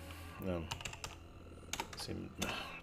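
Quick bursts of typing on a computer keyboard while working in a command-line debugger, with irregular clusters of close keystrokes under a voice speaking.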